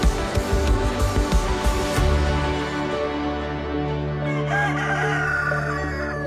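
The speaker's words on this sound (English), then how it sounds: "I just heard the rooster." A rooster crows loudly nearby over a dense, steady background of music or noise, the call stretching over several seconds.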